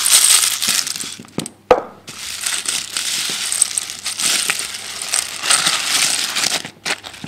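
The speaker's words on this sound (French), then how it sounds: "Je rajoute les céréales Frosties." Frosties cereal poured into melted chocolate in a bowl and stirred with a spatula: dense, close crunching and crackling of flakes with a few sharp clattering bursts, continuous and fairly loud, no talking.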